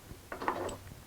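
A clamp is taken off an acoustic guitar body after the glue has dried, giving a short faint scrape and a soft wooden clunk in a quiet workshop.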